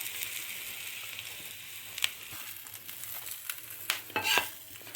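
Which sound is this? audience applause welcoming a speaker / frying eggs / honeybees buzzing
frying eggs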